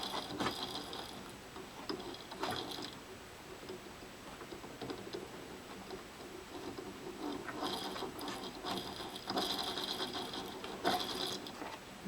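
A Ferguson 3V36 VHS recorder's spring-loaded mechanism grinds and ratchets when pressed down, a close, fairly quiet mechanical rasp that comes in bursts with short pauses, with no talking.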